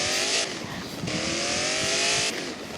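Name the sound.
car drifting with tire squeal in a video game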